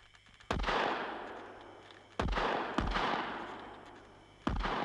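In a 1971 Slovak radio drama of Jules Verne's Five Weeks in a Balloon, four sharp gunshots are fired from a balloon, spaced irregularly, each a close, loud crack with a short decaying tail.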